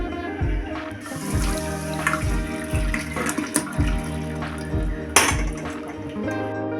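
Water from boiled elephant foot yam is poured off and drained, splashing and trickling steadily at close range, with occasional clinks of a pot or strainer.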